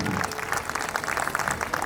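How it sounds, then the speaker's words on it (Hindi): An audience bursts into brisk applause for the performers at an anniversary celebration in Vadodara, dense clapping that stays steady and fairly close for a moment. "उनके लिए एक ज़ोरदार तालियां ज़रूर बनती है"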